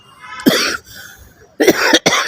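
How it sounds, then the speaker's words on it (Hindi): A person coughs several times in two clusters, harsh and close, with a brief pause between bursts. "थोड़ी खांसी हो रही है"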